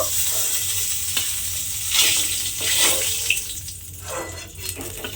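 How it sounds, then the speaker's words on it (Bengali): Pointed gourd (potol) frying in hot oil in a pan, a continuous close sizzle with crackling flares and some stirring, no voices. "ওই তেলের মধ্যে আবারও অন্য পটলগুলো ভাজার জন্য দিয়ে দিলাম"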